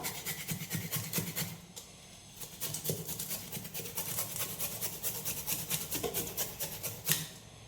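Sweet potato being grated by hand for puttu, a close, rhythmic rasping scrape repeating in quick strokes throughout with short pauses between passes.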